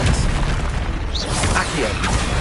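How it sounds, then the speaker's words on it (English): Spell explosions in Hogwarts Legacy, such as Glacius and Confringo, burst in a dense, loud wash of booms and crackling magical impacts, with a voice mixed among them. "Glacius! Confringo! Expelliarmus!"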